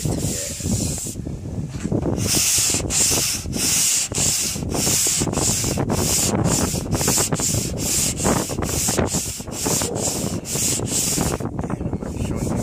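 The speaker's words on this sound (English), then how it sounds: "By the way, she's sanding it." Close, loud sanding of a 1995 Ford F250 truck body panel in quick back-and-forth strokes, a rhythmic raspy scrubbing that repeats about twenty times with short pauses.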